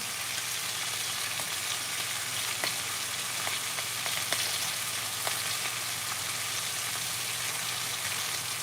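Food sizzles steadily in a cast iron skillet, a dense continuous frying hiss with scattered small pops and crackles, close and even throughout, with no talking.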